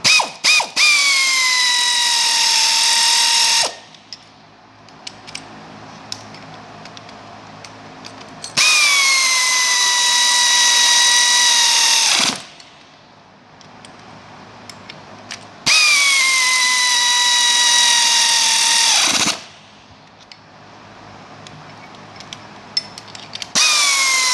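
A 9/16 socket on a power driver tightens nuts and bolts while a KoldSpray pump system is worked on. The motor whirs loudly in three long runs of about four seconds each, separated by quieter pauses, and its pitch drops as each run winds down.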